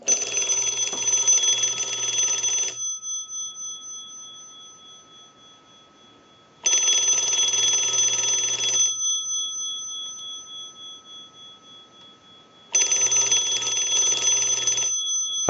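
A Mickey Mouse telephone's bell rings in three separate bursts, driven by a test ring cycle, each a bright metallic trill lasting a couple of seconds, with the tone lingering and fading between rings.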